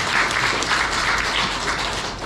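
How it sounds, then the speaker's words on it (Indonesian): A church congregation at a Sunday service claps together in a steady, fairly loud wash of applause that fills the room and fades slightly at the end. "Berikan tepuk tangan kita untuk Tuhan."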